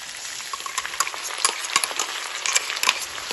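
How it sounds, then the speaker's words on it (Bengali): Chicken fries in hot oil with a ground spice paste, a dense close sizzle broken by frequent sharp scrapes and taps of a spoon stirring the pan, no voices. "মশলাটাও চিকেনের সাথে ভালোভাবে কষিয়ে দেব"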